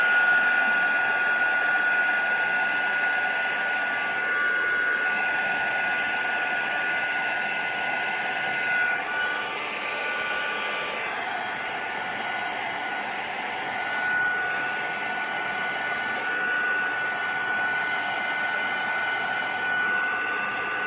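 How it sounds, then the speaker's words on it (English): A small heat tool blows and whirs steadily for about twenty seconds, heating embossing powder in a papercraft stamping session; a constant close airy hum with no talk. "Grab a little heat tool here. And let's just heat her up."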